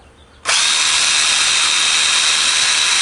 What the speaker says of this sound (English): you're going to take your drill motor, and it's an 1/8 inch drill bit here